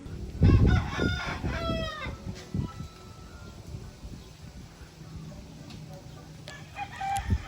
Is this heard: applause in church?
no